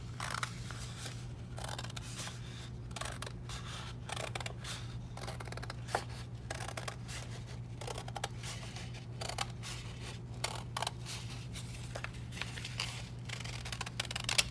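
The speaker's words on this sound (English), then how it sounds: "I can take my scissors and I'm gonna go ahead and cut on that line." Scissors snip through paper along a drawn line in a series of quick, crisp cuts, close and fairly quiet, over a steady low hum.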